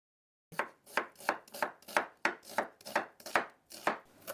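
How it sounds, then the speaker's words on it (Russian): Half a red onion is sliced with a knife: about a dozen crisp, evenly spaced chops, close and steady, with no talking. "Порежу ее перьями."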